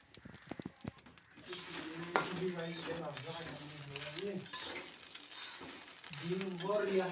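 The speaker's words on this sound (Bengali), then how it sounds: "এখন দিয়ে দিচ্ছি আলু আর ছানা সয়াবিন ভাজাগুলো।" Fried potatoes and soybean chunks with turmeric tossed into a pan, sizzling and clinking under a voice talking throughout.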